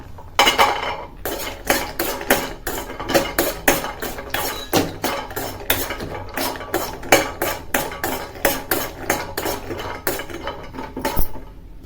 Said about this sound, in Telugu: గోడంబిని వేయించుకుందాం.